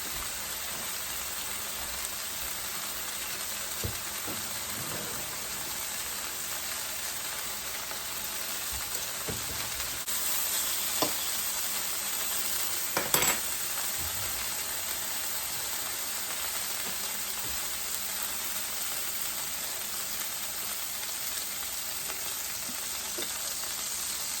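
Bacon sizzles steadily in a hot pan for the whole stretch, a dense even crackle with a few sharper pops, no voices.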